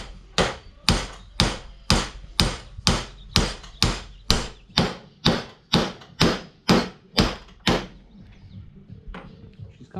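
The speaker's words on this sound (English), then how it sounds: "you gotta be careful when you're whacking on the bearing" A hammer strikes a 1.1-inch impact socket to drive out a bearing during a Woods 6215 mower repair: about fifteen sharp, loud metallic blows in a steady rhythm, close to the listener, stopping near the end with no talk.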